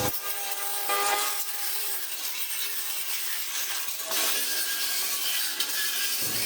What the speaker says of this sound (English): Now I just got to grind my welds